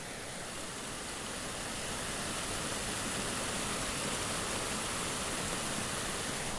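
A creek flowing beside a forest trail on Cypress Mountain, a constant broadband rush of water that fills the whole stretch evenly without pause or talk.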